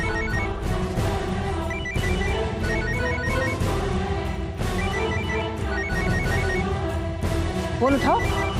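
A phone ringtone plays steadily, a repeating electronic melody under a busy layer of music and voices, with a short tonal sweep near the end.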